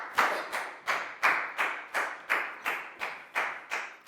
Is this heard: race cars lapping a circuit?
no